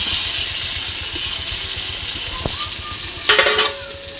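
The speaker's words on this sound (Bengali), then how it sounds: "এবার দিয়ে দেবো আমি ভেজে রাখা আলু।" Fried potatoes tipped into a pan of sizzling fish egg curry: a steady, soft hiss of frying, then a brief louder clatter and spitting as the potatoes go in.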